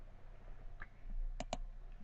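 Two crisp computer mouse clicks sound close together, quiet and near, over a faint steady hum with no talk.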